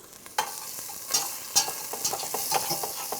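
Garlic and onions sizzle in a hot pan, a steady crackling hiss broken by several sharper clacks and scrapes as the mixture is stirred, close up with no talking.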